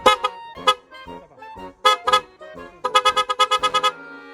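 A newly installed car horn honks again and again in short bursts, first scattered single and double toots, then a quick run of rapid beeps near the end.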